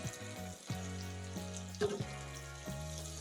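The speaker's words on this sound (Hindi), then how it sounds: "इसको ज़्यादा तेज़ आंच पे फ्राई नहीं करनी है, इसको दरमियानी आंच पे हम फ्राई करेंगे।" Fish frying in oil over medium heat gives a soft, continuous sizzle beneath steady tonal music, with one brief louder crackle partway through.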